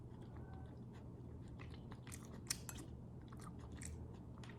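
Close, soft chewing and biting of a steamed beef meat patty with eggs, a Chinese home dish, heard as moist, quiet mastication with a few crisp clicks over a low steady room hum, no talk.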